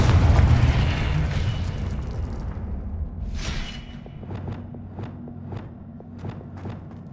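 A single loud burst from the Confringo spell in Hogwarts Legacy, a rumbling boom that fades, followed by a sharp crack and a series of light evenly spaced taps.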